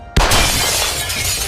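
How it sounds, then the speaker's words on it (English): A car's front glass window bursts apart from a gunshot, one sudden loud crash followed by a long spray of tinkling, crackling shards. "shattering the front glass window."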